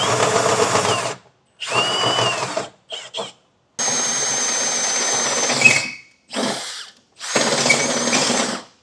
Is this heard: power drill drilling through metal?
yes